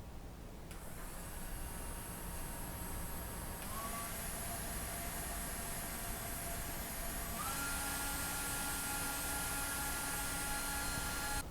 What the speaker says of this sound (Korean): 휴대용 선풍기는 우리 몸 가까이에서 사용하기 때문에 소음도 상당히 중요한데요